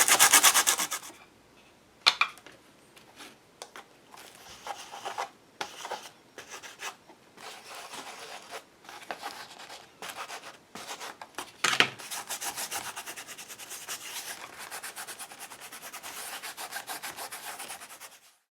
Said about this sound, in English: I'm going to go in here and sand this down.